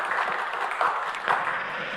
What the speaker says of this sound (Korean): 격려의 박수 한번 해주시죠